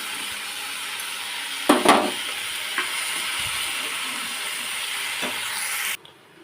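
Mixed vegetables with ginger-cumin paste fry in a pan, giving a continuous close sizzling hiss broken by a few sharp clatters before it cuts off near the end.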